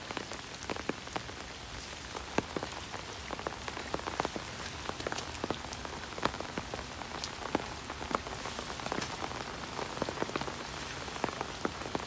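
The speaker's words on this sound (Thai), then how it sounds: "เห็นฝนไหมคะ" Steady rain patters densely on nearby surfaces, a continuous wash of countless drops with sharper individual taps scattered throughout, and no voices.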